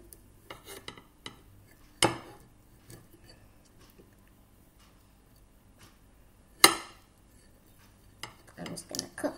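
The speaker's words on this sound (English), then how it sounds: "I'm just going to cut my cucumber." A blunt knife cuts through a block of cucumber, giving sparse, quiet clicks and a few sharper knocks against a hard surface, separated by near silence.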